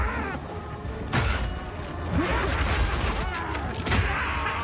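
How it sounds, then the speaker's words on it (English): Piercing Shot skill from Path of Exile 2, a ranged attack in an action role-playing game, landing as a series of dense, loud impact bursts with thuds and booms over constant combat noise. "Piercing shot!"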